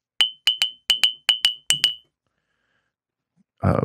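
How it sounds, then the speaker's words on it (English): Nine bright, ringing taps in quick pairs, like pencils striking ceramic cups, each chime decaying fast; silence follows, then a brief rustle. "we got pencils on coffee cups"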